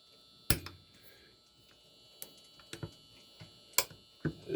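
Sharp mechanical clicks sound as an AR-15 trigger is tested with the hammer held back, a handful of isolated snaps spaced a second or so apart over a faint hum.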